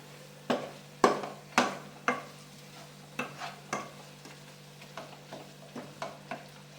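Chicken biryani masala with turmeric powder stirred in a pan, a steady series of about a dozen scraping spoon strokes roughly every half second, close by over a faint background hum.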